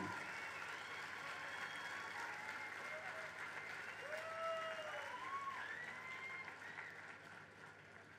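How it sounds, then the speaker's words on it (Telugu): Audience in a lecture hall applauds in honour of J. K. Bharavi, a soft, distant wash of clapping that holds steady and then gradually thins toward the end. "అన్నమయ్యకి వెంకటేశ్వర స్వామికి వినిపించేంతగా చప్పట్లతో ఆయన అభినందిద్దాం"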